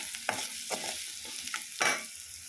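Vegetables sauté in a pan for a mixed vegetable thoran, and a utensil stirs through them in about four or five distinct scraping strokes over a soft, steady sizzle.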